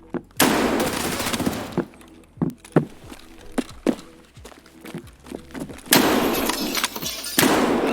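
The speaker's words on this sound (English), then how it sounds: "The shotgun flashbangs are the best fucking thing that I've seen in Tarkov" A shotgun fires flashbang rounds in Escape from Tarkov. Sharp irregular shots and thumps come close, with two longer loud bursts of blast and ringing noise near the start and end.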